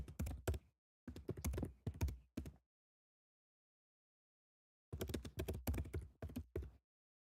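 Bursts of typing on a computer keyboard: clustered key clacks in two rapid runs separated by a few seconds of silence, close and clear with no voices.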